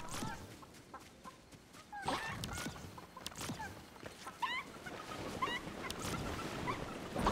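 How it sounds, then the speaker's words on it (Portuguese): Chickens in a video game give scattered clucks and squawks over a low, rumbling game background, with bursts of sound coming and going at an uneven pace and no clear speech. "as galinhas tão loucas."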